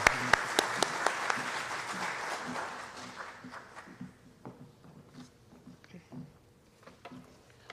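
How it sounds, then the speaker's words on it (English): An audience applauds a woman coming up to speak at the opening of a summer institute: loud clapping at first, tapering off over several seconds into scattered claps and shuffling. "let's give a big round of applause for all you've done for us."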